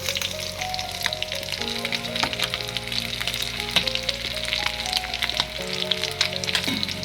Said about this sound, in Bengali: রয়ে রয়ে শুয়ে শুয়ে সুন্দর করে ভেজে নেব শাটিন মাছ